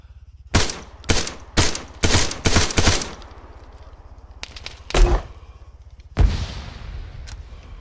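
Gunfire in the Arma 3 military shooter: several loud, sharp bursts and single shots close by, a rapid cluster of cracks followed by scattered shots trailing off with echoing tails, no talking.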